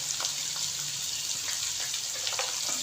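Water poured into a chicken karahi in a pan hisses and sizzles as a steady, dense bubbling noise with scattered crackles, close and continuous throughout.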